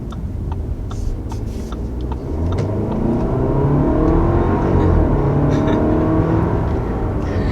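A 2021 Audi Q5 with a 2-liter engine and quattro all-wheel drive revs and accelerates hard, its pitch climbing steadily through the gears, loud and close, with no talking.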